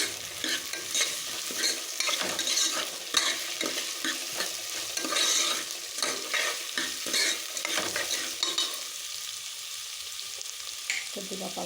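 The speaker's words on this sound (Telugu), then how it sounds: "ఎర్రగడ్డ వేయించండి, కొంచెం వేయించండి." Red onions fry with salt in a hot pan, a steady close sizzle broken by frequent scraping stirs that continue throughout with no talking.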